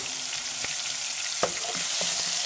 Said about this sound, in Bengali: রসুন বাটা এক টেবিল চামচ দিল, রসুনটা খুব ভালো করে বিরান হইব